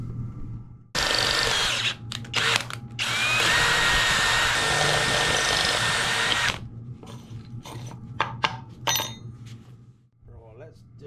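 Power drill boring holes into the metal ends of tubing for an adventure bike build, two loud sustained bursts of high-pitched whirring close by, followed by clanks and rattling of handled parts.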